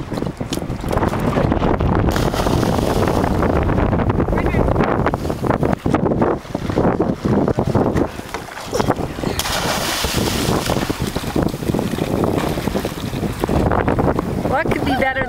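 A boat out at sea ahead of a scuba dive jump, with steady loud wind buffeting the microphone, engine and water noise throughout, and voices talking faintly underneath.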